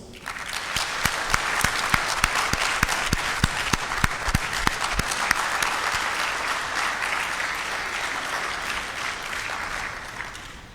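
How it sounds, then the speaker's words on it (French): Warm, sustained applause greets the Prime Minister at a government gathering. It opens with distinct rhythmic claps in near unison, then swells into a dense, even roar of many hands that continues for about ten seconds, with no speech over it. "nous allons le saluer avec toute l'énergie et la chaleur de nos applaudissements"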